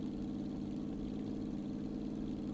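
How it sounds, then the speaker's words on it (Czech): Car engine from a driving video game, the motor holding a steady, moderately quiet drone under throttle, continuous for the whole stretch with no talking. "Když jedu s plynem, tak to má jiný zvuk, než když jedu bez plynu"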